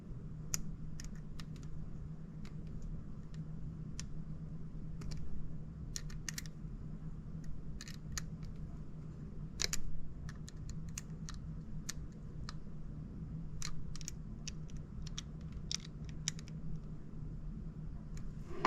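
Screws being tightened on a KastKing ReKon saltwater spinning reel: a run of small, sharp clicks and ticks spread through the clip over a steady low hum, close and fairly quiet, with no talking.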